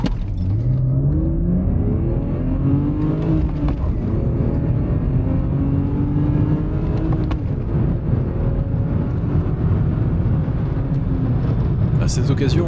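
A 1992 BMW 320i E36 with the M50 B20 engine runs steadily, its low mid-range hum and rising revs constant throughout, while someone talks over it for most of the time.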